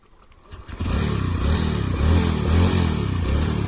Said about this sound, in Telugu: ఒకసారి బీటింగ్ కూడా వినిపిస్తాం, చూసుకోండి